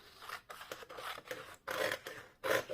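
Scissors snipping through a painted paper background made with stencils and pigment powders, a series of close, dry cuts in short bursts with brief pauses between them, the last two strokes longer and louder.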